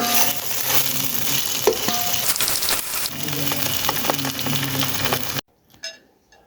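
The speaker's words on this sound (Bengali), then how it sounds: "এখানে আমি তিন পিস মাছ নিয়েছি দুই পিস মাছ আমি অন্য কাজে লাগাবো তাই একসাথে ভেজে নিচ্ছি" Three pieces of fish fry together in a pan for a bean-and-fish mash, a steady loud sizzle with occasional stirring clinks and scrapes, cutting off abruptly near the end into quieter scattered noises.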